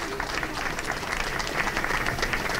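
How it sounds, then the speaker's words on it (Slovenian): Audience applause at an outdoor pro-life march gathering, a dense, steady wash of many hands clapping with no gaps, with no speech. "Kar zaploskajte, to je lepo."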